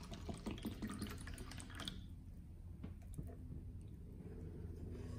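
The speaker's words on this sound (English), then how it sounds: "Let's pour some water in." Aqua Hydrate bottled water is poured into a container, making a faint, close trickle and splash over the first two seconds before settling into quiet background hiss.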